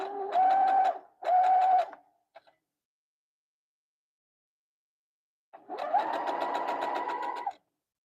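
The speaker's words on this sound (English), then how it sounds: "If the sound of the machine changes as I sew, I will be changing needles." A sewing machine stitches silk chiffon for a Regency ball gown in two short close bursts, then a brief pause and a longer steady run, its motor whirring and needle clattering alone with no talk.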